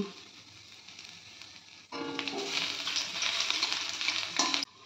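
Grated ginger dropped into hot oil with a dried red chili and whole cumin seeds, a steady sizzle that jumps sharply louder partway through and holds as a bright, close frying hiss, then cuts off.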